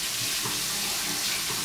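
Tap water runs steadily into a sink while makeup brushes are rinsed under it, a continuous close hiss and splash with no talking.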